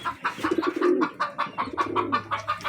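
Pigeons coo in low, throaty repeated calls close by, with a soft rhythmic fluttering or scratching pattern running steadily underneath.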